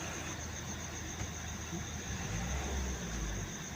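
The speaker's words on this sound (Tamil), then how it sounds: "இப்போ இந்த டஸ்டரோட இன்ஜின் வந்து ஸ்டார்ட் பண்ணிட்டேன். வண்டி ஓடிட்டு இருக்கு." A rebuilt Renault Duster 110 engine idles with a low, steady rumble and a faint high whine over it, even and continuous.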